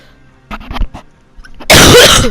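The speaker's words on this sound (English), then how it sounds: "Sorry for the cough." A few short throaty coughs, then a loud harsh burst of coughing or a sneeze-like blast at the end, close to the mic.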